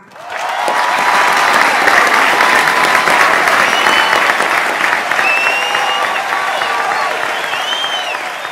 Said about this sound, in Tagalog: muli silang paulanan ng maugong na palakpak.